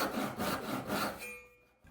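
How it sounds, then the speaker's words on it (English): A handsaw cutting a wedge kerf into a walnut mallet head, with about four rasping back-and-forth strokes, close and loud, then stopping abruptly. "Now to cut the kerf opening for the wedge."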